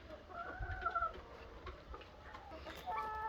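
Hens cluck and call inside a chicken house on an egg farm, with several drawn-out squawks and softer clucks overlapping at close to moderate distance over a quiet background.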